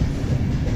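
Passenger train running on rails during a long overnight seated journey, a steady low rumble with faint rhythmic wheel clatter filling the whole moment, close and continuous, with no voices.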